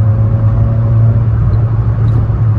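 A Renault Clio 16S engine pulls from the cabin, a loud, steady low rumble with a droning engine tone holding through, close and continuous with no talking.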